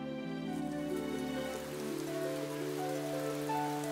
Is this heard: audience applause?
no